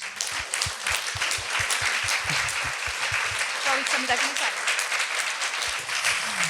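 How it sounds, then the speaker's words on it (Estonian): Big round of applause from an audience of Green Party delegates standing at a session, dense steady clapping filling the room with some voices mixed in throughout. "Ja teeme suure aplausi."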